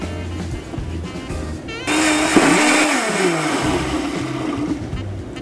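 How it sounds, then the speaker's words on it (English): An 1800 watt blender whirring through a green spirulina smoothie, switching on sharply after a quieter start and holding a loud, steady motor roar that shifts in pitch as the contents churn. "This is perfectly blended in my 1800 watt blender."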